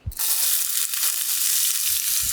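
Onions dropped into hot clarified butter in a pan burst into a loud, bright, continuous sizzle right after a brief quiet start, no talking.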